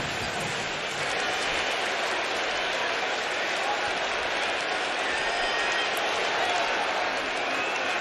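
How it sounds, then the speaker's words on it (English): Crowd at a Padres vs Mets baseball game, a dense, loud, continuous roar of cheering and applause from the stands filling the whole stretch. "You hear the crowd react in real time"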